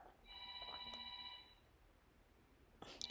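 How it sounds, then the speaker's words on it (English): A phone rings indoors, a sustained electronic tone with bright overtones lasting over a second, heard moderately near and quiet in a calm room, followed by a brief clatter. "that's my husband's phone"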